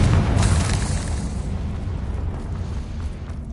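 A loud, booming blast from the Confringo spell in Hogwarts Legacy, bursting at the start and rolling off into a long, fading rumble.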